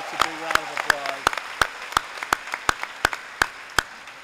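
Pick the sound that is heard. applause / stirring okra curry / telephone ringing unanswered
applause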